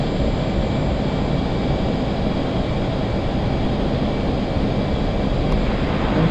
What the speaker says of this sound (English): Beautiful formation takeoff.